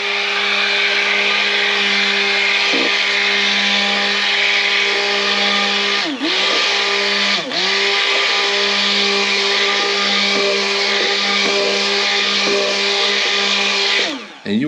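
A loud, steady blender motor whirring continuously while mixing cold-process soap, with a couple of brief dips in pitch as the load shifts, then cutting off at the end.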